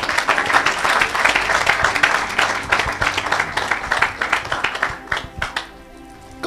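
Applause rises in a church service as the congregation acclaims Jesus, a dense steady clatter of many hands that holds for several seconds and then thins and fades toward the end.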